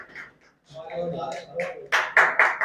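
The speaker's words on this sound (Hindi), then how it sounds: "हो सकता है आप तालियां बजाते थक गए हो" An audience at a poetry gathering (kavya sammelan) bursts into clapping after a voice speaks, a few loud claps rising near the end over the talk.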